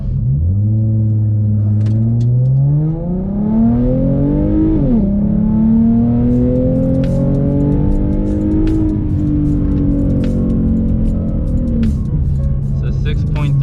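A Ford Mustang with a 3.7L V6, X-pipe and muffler delete accelerates hard, its loud raspy exhaust climbing in pitch through a gear, dropping at a shift, then rising again and settling into a sustained drone up close.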